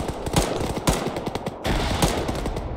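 Arma 3 gunfire rings out in rapid bursts of close, loud shots with sharp repeated cracks, briefly pausing mid-burst before resuming, with no voices.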